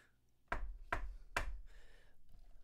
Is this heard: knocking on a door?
yes